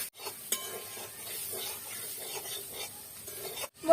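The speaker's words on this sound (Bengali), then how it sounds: "সিদ্ধ করা আলু, ফুলকপি দিয়ে দিচ্ছি। ভালো করে একসঙ্গে করে কষিয়ে নেব মশলার সঙ্গে।" Boiled potato and cauliflower are stir-fried with spices for a singara filling, making soft rhythmic scraping strokes over a low sizzle, with a sharp knock early on. No talk.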